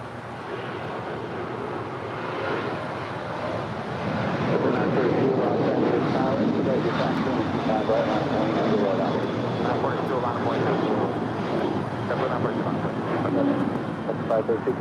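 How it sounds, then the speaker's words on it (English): An Alaska Airlines Boeing 737-800 departs LAX for Portland, its engine roar building into a loud, sustained broadband rumble that holds steady as the jet passes, heard from outdoors with no voices over it. "This is Alaska, 532 departing to Portland, 737-800."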